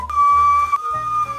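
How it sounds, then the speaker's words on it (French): A person whistles by breathing in, producing a clear sustained tone with a short break in the middle, close and fairly loud over faint breathy noise. "j'y arrive mieux en aspirant qu'en le soufflant"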